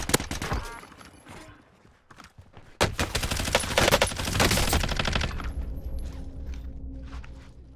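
Rapid bursts of automatic gunfire in a video game on a new battle royale map, loud volleys with a gap near the middle, then heavy sustained shooting that fades into quieter game ambience.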